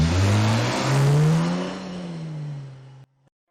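A car engine revs up as it accelerates, rising in pitch over a few seconds, loud and close, then cuts off abruptly, with no voices.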